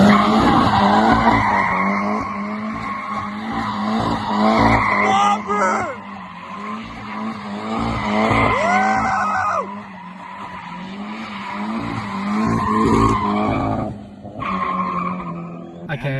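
A Nissan 200SX S13 drift car skids hard, its tires squealing in long sweeping wails over a revving engine, loud and continuous with brief dips between slides.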